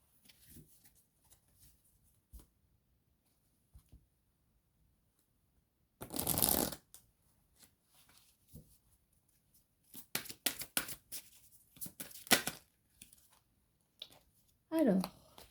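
Message cards are shuffled in short papery bursts, one loud riffle in the middle and a cluster of quicker shuffling flicks later, with soft handling sounds and a brief voice at the very end.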